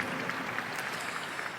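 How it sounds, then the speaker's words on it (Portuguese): A congregation claps together at a church gathering, a steady wash of many hands with no speech over it. "Vamos aplaudir a Jesus pela vida dele."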